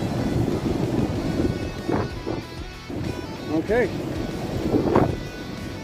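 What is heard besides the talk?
strong wind blowing on microphone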